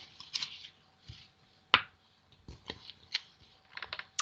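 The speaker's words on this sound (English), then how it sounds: "I felt lighthearted while I was shuffling for you" Tarot cards being shuffled by hand make a series of crisp, close riffling and snapping bursts, with one sharp louder flick midway and quieter gaps between the irregular shuffles.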